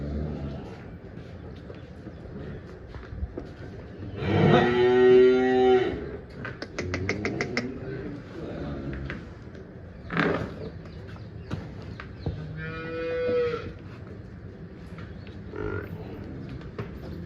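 Cattle moo loudly twice, a long drawn-out low call followed later by a shorter one, with other farm noises and faint activity around them.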